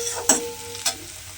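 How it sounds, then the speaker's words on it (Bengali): Ginger, garlic and onion frying in a pan, a steady close sizzle with two sharp scraping stirs of the spatula, no voices. "এই আদা রসুন পেঁয়াজটা আমি একটু আবারও ভেজে নেব"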